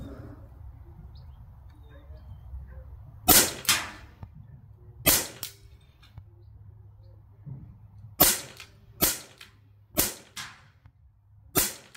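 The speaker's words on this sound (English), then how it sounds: "What a fantastic air rifle." A Steyr Pro X air rifle fires on a shooting range: about seven sharp, loud cracks at irregular intervals, with a few shots coming in quick succession, over a low steady background hum.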